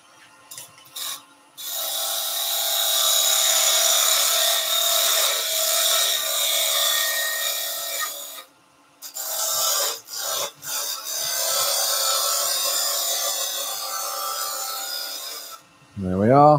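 Wood spinning on a lathe is cut with a parting tool, a steady close rasping scrape that runs for several seconds, breaks off briefly twice, then resumes before stopping as the lathe winds down.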